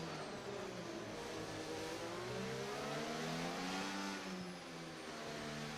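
Racing video game car with a mid-range engine, set on the Melbourne circuit, revving steadily and loudly with rising and falling pitch as it accelerates, heard alone with no talk.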